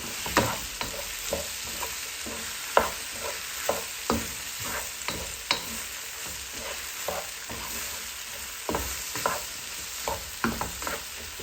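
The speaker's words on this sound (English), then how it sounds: "So add the okra now. And mix well." Okra stir-fried with softened onions and tomatoes for bhindi masala curry: a steady close sizzle runs throughout, broken by repeated sharp spatula scrapes and knocks against the pan, with no talking.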